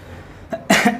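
A single loud, harsh cough from a scratchy, irritated throat, close to the mic, preceded by a softer throat sound, in a quiet room.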